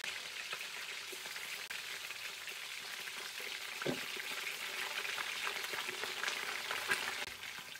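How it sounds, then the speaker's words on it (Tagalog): Steady, quiet sizzling of chicken frying in a pan, a soft continuous crackle with occasional small pops. "so ipiprito naman po na natin yung ating chicken"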